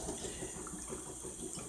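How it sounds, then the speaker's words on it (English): Kitchen tap running water into a small bowl: a steady, soft splashing stream that continues evenly throughout, faint and with no talking. "Now get you a little bowl by a certain size and fill it with water"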